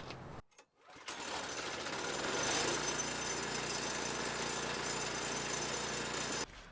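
A Briggs & Stratton engine on a neglected DR wood chipper, running with a freshly fixed spark plug and the choke off, catches after a brief pull and settles into a loud steady idle that drops off sharply at the end.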